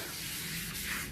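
A steady, soft rubbing hiss as a print on etching ink is burnished against a gel press, continuous and close for about a second.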